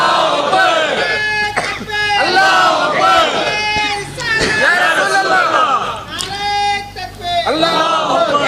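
A large crowd at a religious gathering shouts the Nara-e-Takbeer slogan together in loud, repeated collective bursts, with short dips between the chants.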